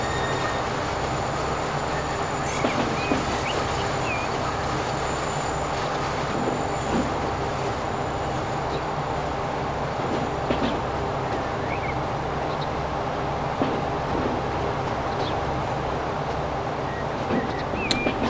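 A rail train rumbles through a tunnel in the Transport Fever game, a steady loud rolling drone with faint wheel clicks and squeals, heard alone for the whole stretch.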